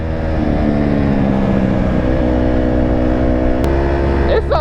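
A dirt bike engine revs loudly and continuously nearby, its buzzing pitch climbing and shifting between gears before a sharp rise near the end.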